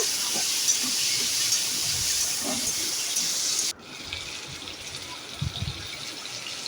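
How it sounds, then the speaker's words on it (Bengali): Prawns salted and dusted with turmeric fry in a pan, giving a loud, steady sizzling hiss that drops abruptly partway through, with soft clinks and scraping underneath. "ভালো করে চিংড়ি মাছগুলো ভেজে নেব"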